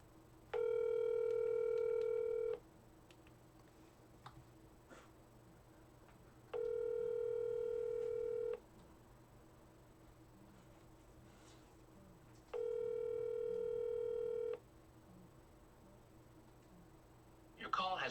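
A telephone call rings through a handset before going to voicemail, with three long, evenly spaced ring tones separated by quiet pauses over faint background hum, and a brief louder sound at the very end.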